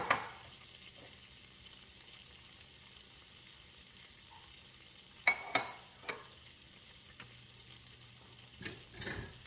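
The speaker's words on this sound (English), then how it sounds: "I'm going to mix this around, get the salt and pepper incorporated." Cauliflower seasoned with salt and pepper stirred in a frying pan, a faint low sizzle broken by a few sharp scraping clatters of the utensil against the pan near the middle and end.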